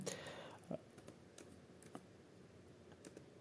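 Typing on an Asus X515 laptop keyboard, a sparse run of faint light key clicks and taps at irregular intervals, quiet and close.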